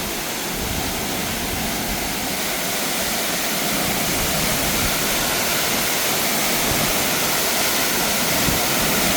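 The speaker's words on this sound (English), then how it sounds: "And this is the Blue Morpho Waterfall." Rushing water of the Blue Morpho Waterfall in Mistico Park, Costa Rica, a loud, steady broadband roar that holds constant throughout without a break.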